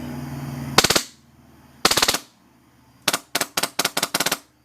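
A Wolverine Inferno HPA airsoft gun fires BBs in rapid bursts outdoors: two short volleys, then a quick string of short sharp bursts, each a crisp mechanical rattle of closely spaced pops with silence between, close and loud.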